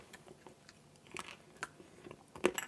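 Chocolate studded with Mediterranean almonds is bitten and chewed, making soft crunches and mouth sounds at close range, with a sharper crack near the end. No one talks.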